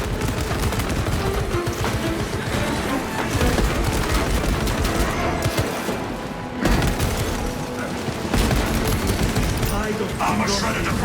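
Sustained heavy gunfire from a servo gun in the video game Space Marine 2, dense and loud throughout with brief lulls, mixed with booms and combat noise.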